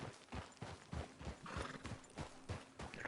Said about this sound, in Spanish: El ruidito de los caballos pisando